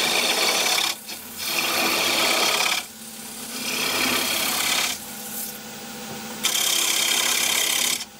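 A chisel held tight to the body scrapes across a spinning piece of wood on a lathe while turning a wooden sword, a loud continuous rasping broken by a few short pauses.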